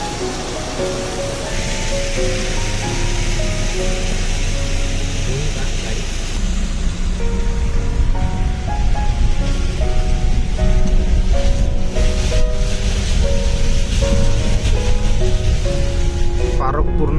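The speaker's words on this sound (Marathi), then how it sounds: "याच धबधब्यामध्ये छोटासा मस्त हे धबधबा आहे हा" Steady rushing water from a small waterfall fills the scene, continuous and fairly loud, while people talk over it.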